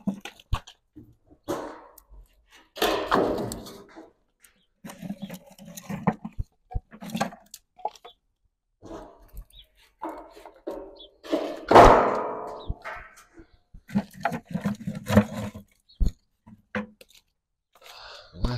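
Pine wood pieces are loaded by hand into a fire in a wood-waste processing burner, giving irregular clunks, thuds and crunching knocks spread across the clip, with bursts of rustling and no speech.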